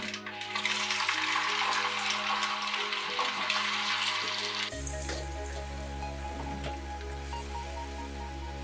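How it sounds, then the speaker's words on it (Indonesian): Loud, steady crackling and sizzling of cassava slices frying in hot oil, a dense bubbling hiss with a lower hum joining partway through. "Kemudian goreng irisan singkong"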